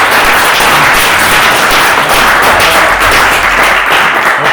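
Audience at a town council meeting clapping loudly and steadily, a dense continuous wash of applause filling the room throughout with no talk over it.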